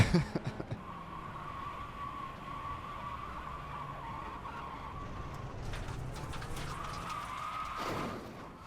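Mazda race car driving in iRacing, a steady engine drone with brief tire squeal, faint and distant, opening with a few quick thumps and the engine rising toward the end.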